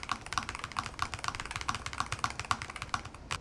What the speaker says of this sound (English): I really think they did a good job on the sound and the acoustics and the feeling of this keyboard